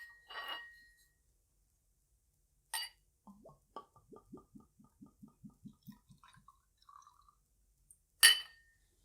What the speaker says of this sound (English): And why not pour it inside of my nice new Glencairn glass?